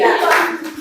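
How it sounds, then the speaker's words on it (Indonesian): Students in a high school geography class applauding together, a dense burst of hand clapping heard briefly at close range. "berikan tepuk tangan dulu buat semua"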